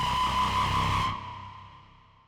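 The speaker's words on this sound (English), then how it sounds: "And the final sound that I have is this Bram-like screamer." A heavily distorted screaming synth tone, bright and harsh with a steady high whine, sustaining about a second before the top end cuts away and a darker tail decays, heard alone.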